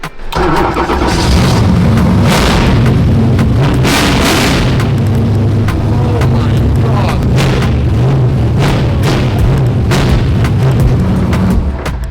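A NASCAR V8 engine in a Nissan Silvia cranks and fires with a sharp bang, then settles into a loud, rumbling idle that continues steadily nearby.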